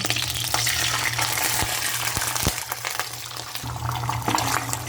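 Egg hitting hot cooking oil in a pan while fried rice with cabbage is being made, a steady bright sizzle that carries through with a few sharp clicks and scrapes of the pan or utensil.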